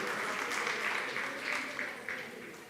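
A church congregation claps together in a warm, steady burst of applause, moderately loud with voices mixed in, fading gradually over a few seconds.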